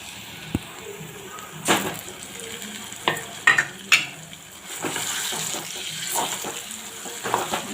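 Eggplant bharit being stirred in a hot pan: a low, steady sizzle with several sharp spoon scrapes and knocks against the pan, close and fairly quiet, with no talking.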